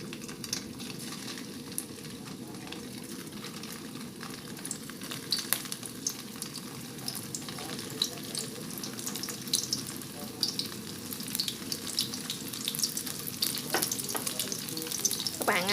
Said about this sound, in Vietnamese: Các bạn chiên cho nó vừa vàng là được rồi ha.